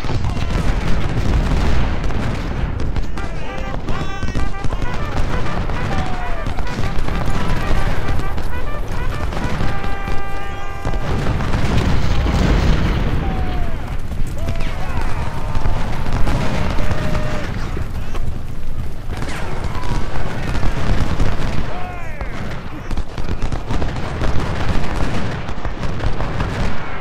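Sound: cannon artillery fire in video game Ultimate General: Civil War

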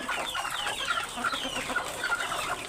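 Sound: hill breed roosters clucking

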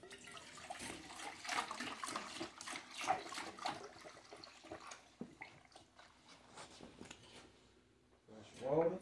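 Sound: fresh water being poured for dogs

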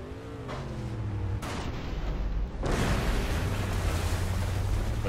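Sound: explosion in the racing video game Trail Out

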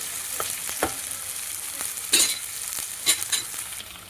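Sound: onion paste frying in a pan

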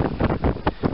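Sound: wind blowing on microphone

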